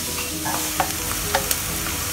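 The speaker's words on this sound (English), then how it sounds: "Now we are frying some garlic over here." Garlic sizzles and crackles in a hot pan, with a few soft scraping stirs over the steady frying hiss.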